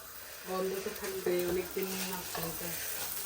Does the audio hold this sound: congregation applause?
no